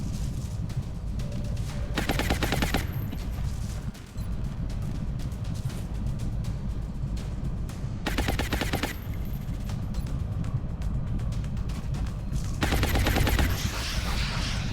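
Gunfire in the XCOM Long War video game, with pistol shots among bursts of rapid fire and repeated loud cracks over a steady dense background throughout.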